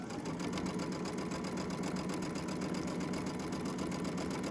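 A sewing machine runs steadily with white thread, stitching along a fabric ruffle for a handmade gift bag, giving a continuous mechanical whir close by with no talking.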